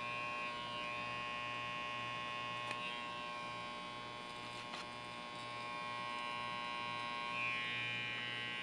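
An electric hair clipper hums steadily at close range while cutting hair for a faded wave brush cut, its droning buzz unbroken with only a couple of faint clicks.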